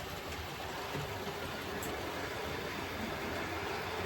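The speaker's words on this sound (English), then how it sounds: "Lovely little loco, but that is just a bit on the noisy side." A model railway locomotive running with a steady, dense mechanical whirr and rumble, continuous and fairly close, no voices.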